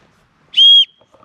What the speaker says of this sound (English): it has a whistle on it.